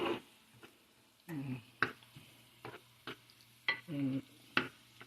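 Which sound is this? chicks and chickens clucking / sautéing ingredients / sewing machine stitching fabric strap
sautéing ingredients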